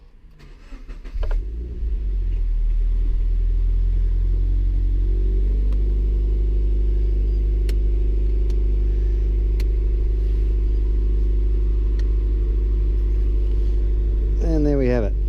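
A Toyota 86 GTS is started: a starter whirs briefly, then the engine catches and settles into a loud, steady idle rumble, heard up close. Near the end the revs rise sharply for a moment.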